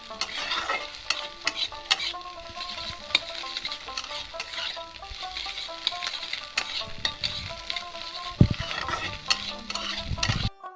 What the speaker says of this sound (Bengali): ডিম আর পেঁয়াজটা একসাথে ভেজে নেবো